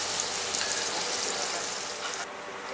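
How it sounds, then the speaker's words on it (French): Grapes reducing in white wine in a hot pan, a steady, dense sizzle that holds close and loud throughout, easing slightly near the end. "mettez votre vin blanc, réduction à sec avec les raisins, et vous mettez votre fond"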